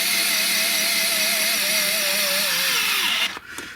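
A Fanttik L1 Pro 3.7V cordless power screwdriver drives a screw into a pilot hole with a steady, loud motor whine that slowly drops in pitch under load, then cuts off abruptly, leaving faint handling noise.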